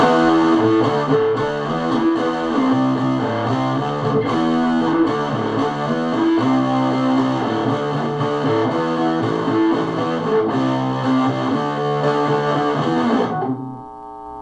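A custom electric guitar played through heavy rock distortion with lots of gain, a loud sustained chugging riff that runs steadily for about thirteen seconds before cutting off.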